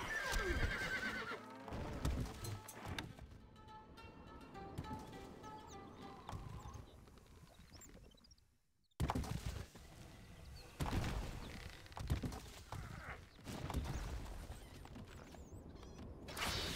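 A horse whinnies and hooves clip-clop in the strategy game Stronghold: Crusader, with a loud neigh at the start, hoofbeats and game sounds, a brief drop to near silence, then more hoof sounds.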